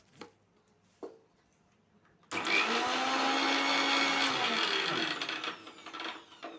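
Mixer grinder blending green chilli masala for masala soda: two brief knocks, then a loud, steady whirring grind that starts abruptly, runs for a few seconds and tapers off near the end.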